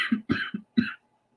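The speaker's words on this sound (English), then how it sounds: "Coughing a lot." A person coughs four times in quick, close succession, short harsh bursts followed by silence.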